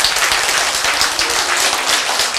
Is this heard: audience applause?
yes